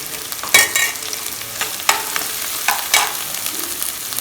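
Onion and curry leaves frying in a pan for prawn thokku, a steady sizzle broken by several sharp stirring scrapes of a spoon against the pan, close and alone with no talk.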